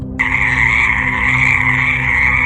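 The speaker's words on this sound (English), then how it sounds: "Then they began croaking again, louder, almost mocking him." A chorus of frogs croaking steadily at the edge of village water, a dense, even drone of overlapping calls that starts abruptly and holds at a fairly loud level.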